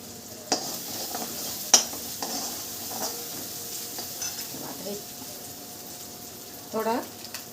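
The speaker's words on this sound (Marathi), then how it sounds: "छान असं परतून घेऊ." A spice paste of chili, onion, coconut, coriander, garlic and ginger sizzles softly in a pan for a chicken dish, with occasional spoon scrapes and clinks, and a voice speaking at times.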